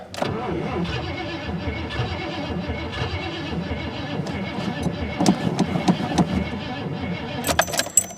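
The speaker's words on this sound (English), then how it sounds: "May not run long, but at least it fired." Old engine at a Startfest trying to start, a cranking, sputtering churn that runs unevenly with irregular pops and firing bursts, close by, ending with metallic clinks.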